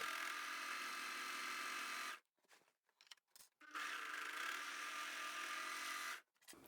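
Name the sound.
overlocker sewing tote bag handles in place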